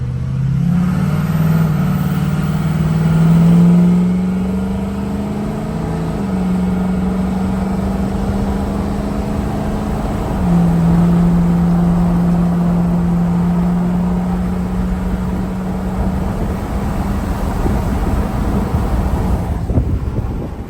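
A Ford 6.0 Power Stroke diesel truck drives on a test run, its aftermarket exhaust giving a loud, steady drone with a few rising and falling pitch shifts as it accelerates and cruises, with wind noise underneath.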